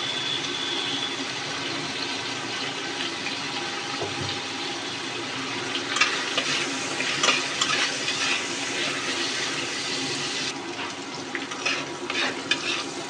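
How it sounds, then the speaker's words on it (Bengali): Shrimp fry in a pan with onion and green chilies, a steady close sizzle and crackle with occasional stirring scrapes, no talking. "তো চিংড়ি মাছগুলো আমার ভাজা হয়ে এসেছে, আমি হালকা করে ভেজে নিয়েছি।"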